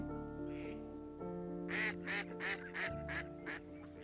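Several wild mallard ducks quack in a rapid run of about six loud calls, close by, over a steady background hum.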